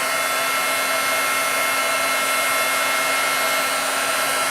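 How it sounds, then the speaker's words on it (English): An embossing heat tool blows a steady, loud, hissing stream of hot air, drying white embossing powder on paper, running unbroken throughout. "Just grab my heat tool."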